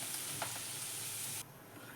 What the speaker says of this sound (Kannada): ಈಗ ಮಜ್ಜಿಗೆ ಸಾರಿಗೆ ಒಗ್ಗರಣೆ ಕೊಟ್ಟಿನಿ ರೀ